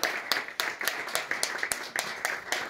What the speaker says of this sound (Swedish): Ja, en applåd tycker jag.